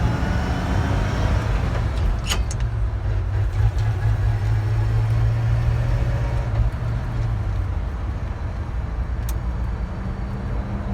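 A 1968 Chevrolet C10 pickup, "Big Blue," cruises along with a steady low engine drone and road rumble, the engine note dropping slightly midway, a couple of faint clicks, no one speaking.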